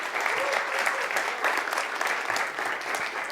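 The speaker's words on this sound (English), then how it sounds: "Give her another round of applause if you could." Steady applause from the audience at a university three-minute thesis competition fills the whole moment, a dense wash of clapping at an even level.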